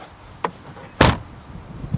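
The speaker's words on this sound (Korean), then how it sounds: "물론 트렁크는 이렇게 쾅 닫는 게 손맛이다" The trunk lid of a BMW M440i xDrive coupe slams shut by hand with one loud, close thud, after a lighter click just before it.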